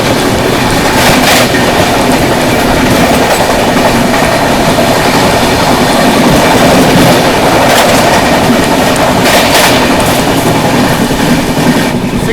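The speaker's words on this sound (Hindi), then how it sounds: "सिक्किम महानंदा आ रही है, उसके साथ भी क्रॉसिंग दिखाते दोस्तों" The Sikkim Mahananda Express passes close by with loud, steady rumbling and rhythmic clickety-clack of its wheels over the rails for the whole stretch.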